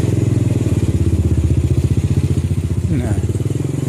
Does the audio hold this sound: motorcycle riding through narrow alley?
yes